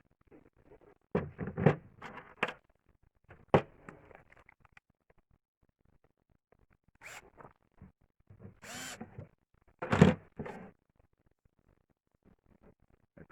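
Power drill driving screws into a wooden stand for a portable bandsaw, heard as several short, separate bursts of whirring with quiet pauses between them, fairly close.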